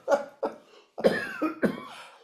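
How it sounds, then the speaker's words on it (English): A person coughs in several short, harsh bursts, close and fairly loud, with brief pauses between them and a couple of rougher, longer coughs toward the end. "Every time we start laughing, he starts coughing."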